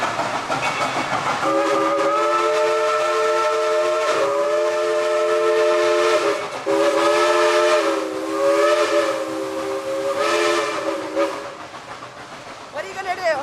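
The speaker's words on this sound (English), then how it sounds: "There's a legitimate steam engine." A loud steam locomotive whistle at the Dollywood theme park blows several long, multi-toned blasts with brief breaks between them, over a rumbling background.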